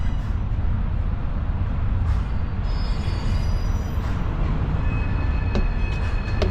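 A train rolls into a Norfolk Southern intermodal rail yard, a steady loud low rumble with faint high wheel squeals over it, heard from close by with no talking.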